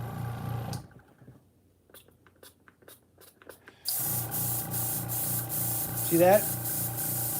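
An airbrush sprays Goo Gone cleaner through itself in a shed, a steady close hiss filling the second half after a quieter stretch of faint tapping, with a brief voice speaking.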